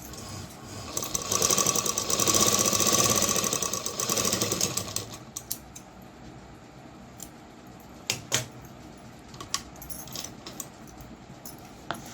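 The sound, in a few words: sewing machine stitching a folded saree border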